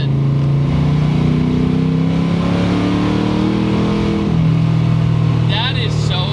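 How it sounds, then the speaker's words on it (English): A 420-horsepower Lincoln Town Car engine revs up and down in rising and falling pitch sweeps while rev matching, loud and close, with a voice briefly audible over it. "Just rev matching in a Lincoln Towne car like that."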